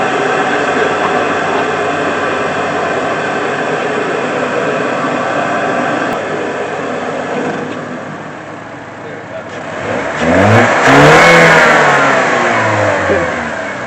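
A 2021 Lexus IS300 engine with a newly installed intake running at a steady drone, then revving up with a rising, wavering pitch near the end; people talk over it.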